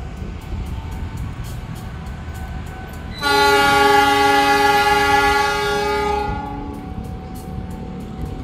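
The Jayabaya train bound for Malang departs Pasar Senen station in Jakarta with a loud, sustained multi-tone horn blast lasting about three seconds, then easing off as the train rumbles on.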